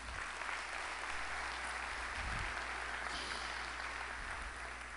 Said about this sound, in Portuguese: uma salva de palmas para a Uningá